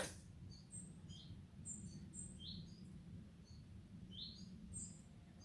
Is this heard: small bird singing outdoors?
yes